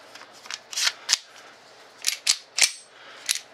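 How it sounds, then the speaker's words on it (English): Sharp metallic clicks and snaps come close and loud in short bursts as a pistol magazine is seated into the grip, several distinct hits spread across a few seconds with no talk. "Magazine in."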